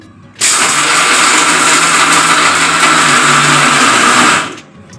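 An electric mixer grinder running dry coconut for chutney, a loud steady whirring grind that starts abruptly, holds for about four seconds and then cuts off, with no voices over it.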